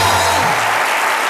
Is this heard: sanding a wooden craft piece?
no